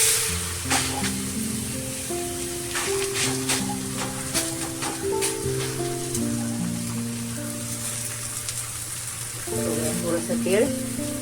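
Oil sizzles and crackles in a pan while a thalipeeth of bottle gourd and ridge gourd cooks, with steady popping ticks and a sustained tonal hum or music running underneath throughout.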